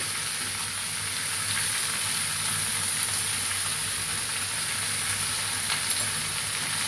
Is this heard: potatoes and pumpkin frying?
yes